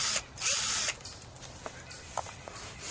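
A power drill whirs in short bursts during a Wii console repair, with a loud half-second run followed by fainter clicks and mechanical rattles.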